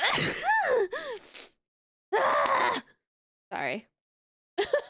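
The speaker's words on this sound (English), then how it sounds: "I gotta sneeze." A person sneezes abruptly during a livestream, a sharp gasping burst followed by short bursts of vocal sound, with brief speech apologizing afterward.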